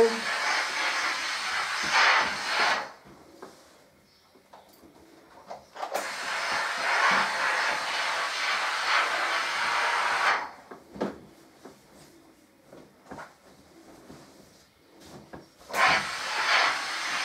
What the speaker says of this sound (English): All this steam's going to make my hair go curly.